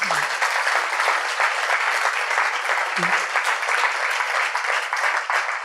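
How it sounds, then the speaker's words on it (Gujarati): Sustained applause from a large audience at a spiritual discourse fills the whole span, dense and even, with a brief voice cutting in near the start and again midway. "ફરીથી એક વખત તાળીથી વધારી."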